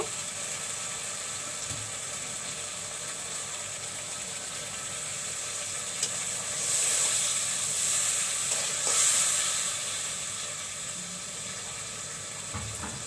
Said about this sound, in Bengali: এখন আমি এখানে টমেটো দিয়ে দিব।